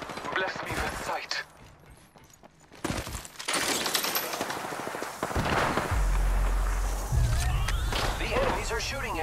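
Gunfire in a shooter video game: sharp shots and rapid bursts crackling close and loud, mixed with game sound and a spoken voice.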